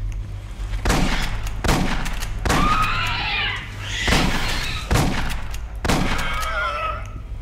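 Shotgun blasts in the Aliens: Colonial Marines video game, a series of about five evenly spaced booming shots with ringing tails, steady game background underneath.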